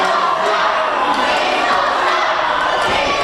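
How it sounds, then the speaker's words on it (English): Wrestling crowd at a UWC event shouting loudly and continuously in hostility, a dense, steady roar of many voices filling the whole stretch. "Crowd here being very vociferous"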